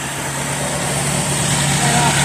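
A restored 1984 Cadillac Seville engine idles steadily, a loud continuous hum and hiss with no change in pace, close to the listener throughout.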